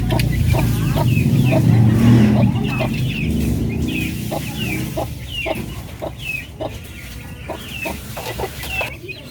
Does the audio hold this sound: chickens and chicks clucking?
yes